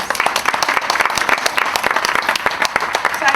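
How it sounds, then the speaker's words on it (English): A conference audience at a leadership gathering gives the speakers a loud round of applause, with many hands clapping densely and steadily throughout. "I now ask you to join with me in giving our speakers a round of applause."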